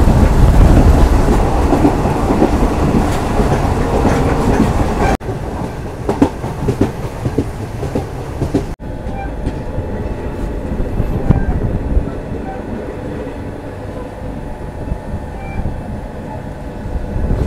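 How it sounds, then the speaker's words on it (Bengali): Agartala to Silchar train running past tea gardens and paddy fields, a loud, steady rumble with rhythmic clickety-clack of wheels on rail joints throughout, carrying on without pause. "চা, ধান, পাশে আবার ট্রেন চলছে।"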